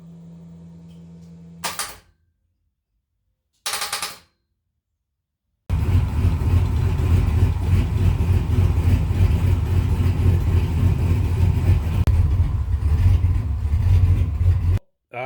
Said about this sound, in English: I'm going to go ahead and start it